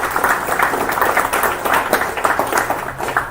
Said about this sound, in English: Round of applause to them as well.